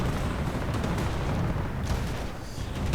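An Ostwind anti-aircraft tank firing on advancing riflemen and engineers in the Company of Heroes 2 battle game, a dense, continuous barrage of booming shots and blasts that fills the whole moment without pause.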